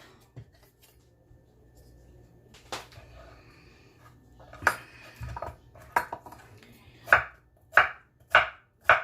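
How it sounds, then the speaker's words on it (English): A knife chops cucumber on a board, slow and sparse at first, then a run of sharp, evenly spaced, close chops that grow louder toward the end. "chop my cucumber"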